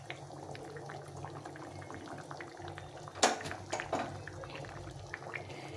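Leftover oil from frying eggplant simmering in a pan, a soft bubbling with small pops and one sharper sputter midway, fairly quiet and close.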